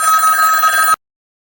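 A telephone bell rings loud and close in one continuous burst for about a second, then stops abruptly into silence.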